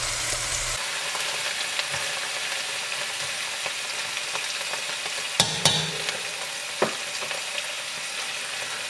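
Chopped vegetables for red beans and rice cook down in a pot with a steady, even sizzle that holds for the whole stretch. A few faint clicks and a couple of sharper knocks near the end sound close up, and no one speaks.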